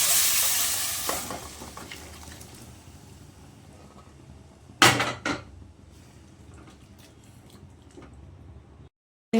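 Mutton sizzles as it fries in a pan while a utensil scrapes and stirs, with a couple of sharp clanks against the metal partway through.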